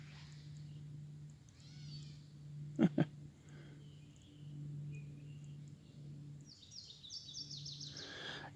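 A gray catbird, a thrush-like songbird, gives soft mewing, kitten-like calls at a distance, with a couple of sharp nearby clicks and other bird chirps over a steady low hum.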